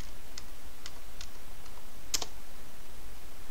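Keys tapped on a computer keyboard, a handful of sparse, light clicks spread irregularly, with one sharper double press near the end, close and fairly quiet over a steady background hiss.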